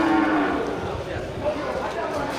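Water buffalo at a livestock market of bulls ready for slaughter, one long low moo near the start, followed by quieter lowing amid a murmuring background.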